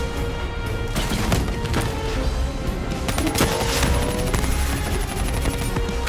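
Sustained gunfire in a Call of Duty: Black Ops III campaign battle against a Manticore robot, dense continuous shooting and impacts throughout, loud and cluttered with no clear pauses.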